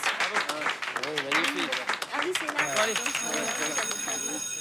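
Applause from a group in a school setting, a rapid patter of hand claps running throughout while several voices talk and call out over it.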